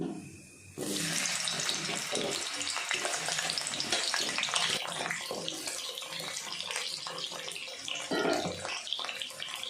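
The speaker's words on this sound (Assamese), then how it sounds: "এতিয়া মই ইয়াতে আলুখিনি ভাজি ল'ম।" Potatoes drop into hot mustard oil in a kadai and set off a loud, sudden hiss that settles into a dense sustained frying crackle with stirring, and no one speaks.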